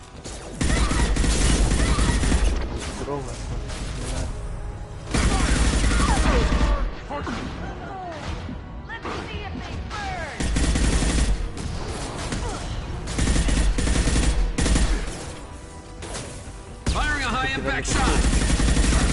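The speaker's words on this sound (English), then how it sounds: "Taking heavy fire." A firefight in the video game Mass Effect 2, with loud, sustained automatic gunfire in heavy repeated bursts and impacts, while a voice speaks briefly over the shooting.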